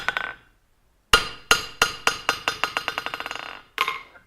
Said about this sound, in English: This is mild steel on hard anvil top. This is hardened, properly hardened steel.